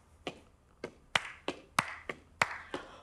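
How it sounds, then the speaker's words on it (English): Hand claps used as body percussion: about nine crisp, separate claps in an uneven rhythm, close and clear, with quiet gaps between them. "Now I could add a clap."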